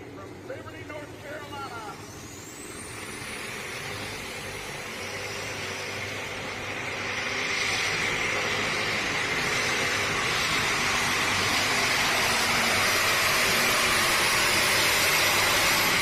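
A pulling tractor's engine roars at a tractor pull, rising from a strained rumble into a loud, sustained high-revving drone that builds and holds to the end, with an announcer talking over it.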